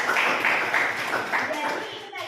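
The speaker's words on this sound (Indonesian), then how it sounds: "Tepuk tangan dulu buat temannya" A class of students claps for a classmate during a school lesson: a brisk burst of group applause, close and fairly loud, lasting about two seconds.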